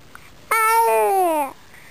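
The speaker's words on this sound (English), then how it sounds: "You are quite the talker now, huh? Especially with the bottle in your mouth" A baby babbles while feeding from a bottle, one loud, drawn-out, tonal vocal sound lasting about a second, close to the microphone and alone.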